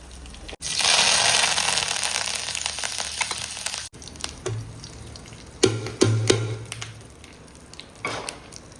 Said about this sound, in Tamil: இப்போ தாளித்து கொட்டிக்கலாம்